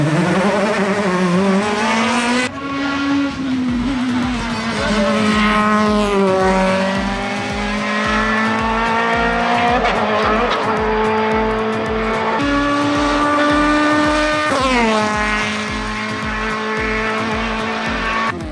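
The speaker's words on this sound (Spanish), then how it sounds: "concluyó Arcaiz Ordoqui en su estreno de la barqueta Norma con motor 2 litros" A Norma open-top race car with a 2-litre engine screams loudly up a hill climb course, revving hard through rapid gear changes with rising and falling pitch, close and continuous.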